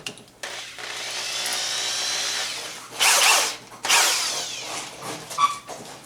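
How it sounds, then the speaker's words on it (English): A power drill drives screws into a plastic fender on a 1985 Yamaha YTM 200e trike, with a long steady whine, a pause, then two more short bursts of whirring close up. "I'll just screw that on down here."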